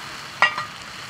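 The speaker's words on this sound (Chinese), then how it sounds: "把这炸好的鱼下锅" Fried grass carp slides into a pot of seasoned liquid with soy sauce, pepper, cooking wine and salt, giving one short, moderately loud sizzling splash that fades quickly against a quiet kitchen background.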